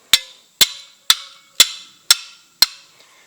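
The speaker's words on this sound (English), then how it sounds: "Smacking this against your aluminum stake sounds like this." Six sharp metallic clanks of a folding shovel smacked against an aluminum tent stake, evenly spaced about half a second apart, loud and close with short ringing decay, no voices.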